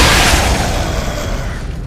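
Force Gun blast in Dead Space 2 on Hardcore difficulty, a single loud, close, booming burst that rumbles and slowly decays across the whole moment.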